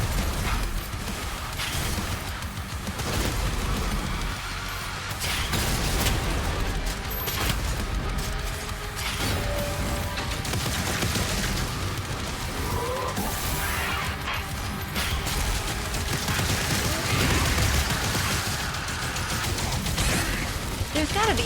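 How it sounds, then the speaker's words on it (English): Enemies firing energy orbs in DOOM: The Dark Ages, heard as dense, continuous game combat with loud crashes, bursts and rapid blasts layered over one another, with a voice talking throughout. "They're just gonna keep shooting orbs."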